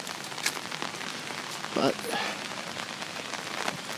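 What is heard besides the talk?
rain falling in Amsterdam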